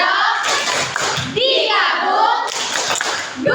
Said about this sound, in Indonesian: Tepuk tangan pada Via.